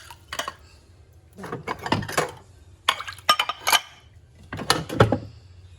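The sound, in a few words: pots and dishes clinking while being washed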